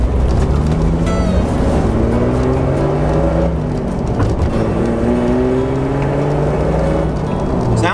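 A 20-year-old Jeep Wrangler pulls away with a manual gearbox, its engine droning loud and steady with throaty exhaust, pitch climbing and dropping through gear changes, close and continuous without pause.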